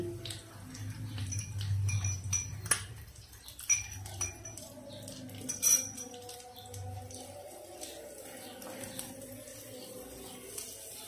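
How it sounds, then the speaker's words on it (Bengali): A spoon stirs chopped onion and garlic in a pan for homemade pizza sauce, making soft, irregular metallic clinks and scrapes, louder at first and then quieter and sparser, with a faint sizzle underneath and no talking. "পেঁয়াজ রসুন 1 মিনিট পর্যন্ত নাড়ব।"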